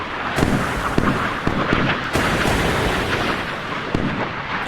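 British missiles launching in the naval game Sea Power, a dense roaring rumble of rocket motors and blasts with several sharp thumps layered in, loud and continuous.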